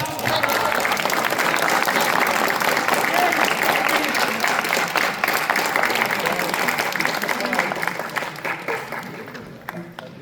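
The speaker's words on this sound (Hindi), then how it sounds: "इतनी अच्छी प्रस्तुति के लिए तालियां बहुत कमजोर थी" Audience applause at a kavi sammelan poetry recital held for Independence Day at NIT Rourkela: dense, steady clapping from a hall crowd fills the whole stretch, holding strong and then thinning slightly near the end.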